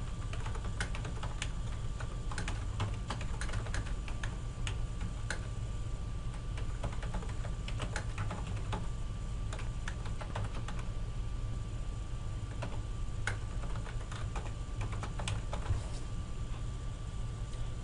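Rapid, steady tapping of fingers on a computer keyboard, quiet clicks in an uneven stream over a low background hum.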